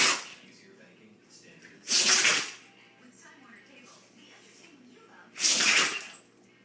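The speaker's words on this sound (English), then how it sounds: "Can't sneeze over there." A Rottweiler sneezes twice, each a sharp, close, breathy burst about three seconds apart, over a quiet room background.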